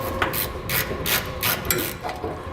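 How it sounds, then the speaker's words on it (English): A ratchet fitted with a 13mm socket removes the passenger-side bump stop from a truck while air helper springs are being installed. Rapid, loud, close clicking comes in several bursts with no voices. "Now we'll remove our bump stop on our vehicle. We're here on the passenger side, and we're using a 13mm socket."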